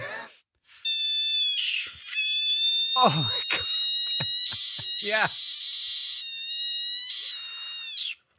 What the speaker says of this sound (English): That is a screaming frog.